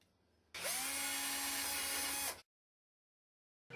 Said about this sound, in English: you will need to place the saddles ready for drilling them out